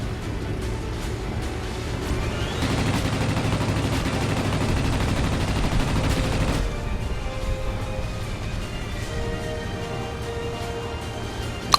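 Rapid machine-gun fire in World of Warplanes aimed at a biplane, a dense continuous rattle over an engine drone that grows heavier midway, then drops back to engine hum with scattered shots.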